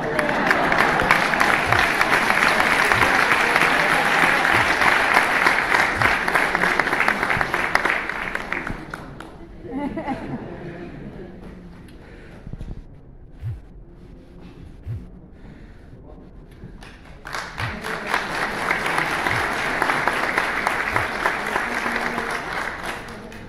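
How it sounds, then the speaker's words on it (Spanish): Loud applause from an audience at an awards event in Torrejón fills the start, fades to a quiet stretch with scattered claps and murmurs, then swells again into sustained clapping. "Nosotros le vamos a aplaudir muchas más"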